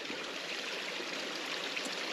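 Cumberland Brook flows in a continuous broadband rush of running water along a hillside walking path, steady and moderately close, with no voices over it.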